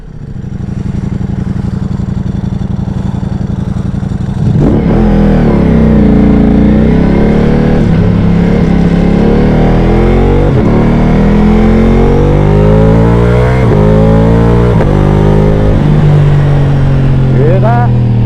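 Ducati Multistrada V4 Pikes Peak with an Akrapovic exhaust and dry clutch, idling, then loud repeated throttle blips with rising and falling revs, close up, someone talking over it.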